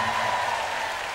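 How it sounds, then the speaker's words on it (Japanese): Concert audience at Nippon Budokan applauding as band members are introduced, a dense, continuous roar of clapping from a large arena crowd. "熱い拍手をよろしく"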